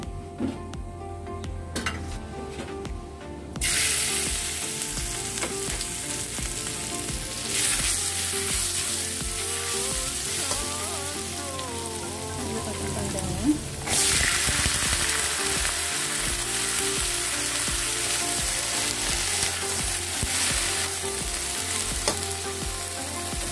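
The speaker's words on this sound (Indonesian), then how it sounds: "Masukkan bawang putihnya yang sudah dicincang ya." Minced garlic frying in a pan for stir-fried long beans: loud, steady sizzling that swells abruptly as ingredients hit the oil, with utensil scrapes and clinks against the pan throughout.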